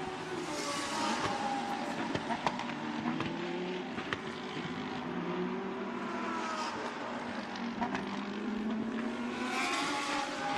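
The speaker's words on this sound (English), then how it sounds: "So the leaders accelerate through for lap 17" Lamborghini Super Trofeo race cars accelerate around the Shanghai circuit, their engines giving a continuous, rising and falling roar from several cars at mid distance, with a commentator faintly audible underneath.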